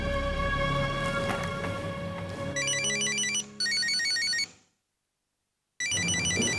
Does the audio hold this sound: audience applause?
no